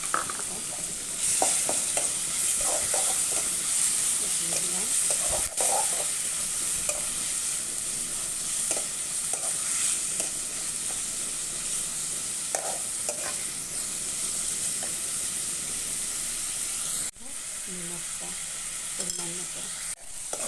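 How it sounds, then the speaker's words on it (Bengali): Tomatoes fry in a pan with coriander, cumin and ginger-garlic, giving a steady, bright sizzle throughout. Repeated spoon scrapes and taps come through close up, and a brief spoken phrase appears partway. "দেখুন টমেটো ফ্রাই হচ্ছে"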